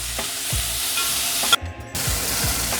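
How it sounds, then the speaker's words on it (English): Onions softening in a pot over medium heat for New York-style hot dog onions in red sauce, a steady close sizzle broken by a few spoon stirs and scrapes, with one short near-silent pause. "I got a medium heat on this onion pot."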